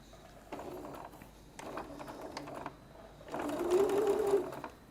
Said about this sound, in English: now we're going to stitch it with the sewing machine